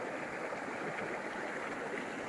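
A small waterfall at a backyard campsite gives a soft, continuous rushing and gurgling of flowing water, faint and even throughout with no talking.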